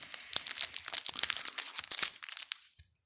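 Plastic packaging from a Milka cake is torn open, producing a burst of sharp crinkling and crackling, dense and close, tapering off as the wrapper settles.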